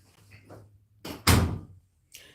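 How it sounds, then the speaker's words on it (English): An interior door swings shut with a firm thunk at close range, a single loud impact with a brief rattle, preceded by faint shuffling and followed by another soft knock. "Close my door, please."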